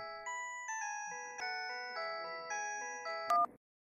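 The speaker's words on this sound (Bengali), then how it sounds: "এই সময় আবার কার ফোন?" A melodic phone ringtone plays a repeating series of electronic tones, moderately loud and alone, then stops abruptly.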